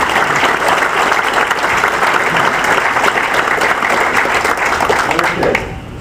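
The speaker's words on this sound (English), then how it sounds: "So if we could give them a collective round of applause for this." Loud, sustained clapping from a crowd at an army association chapter's annual dinner, dense and steady before easing off in the final second.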